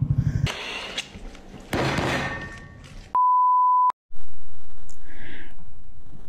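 A car sensor beeps at a busy petrol pump selling ethanol-free petrol, with one steady, fairly loud tone lasting under a second after some thumps and clatter, then a low hum of the forecourt.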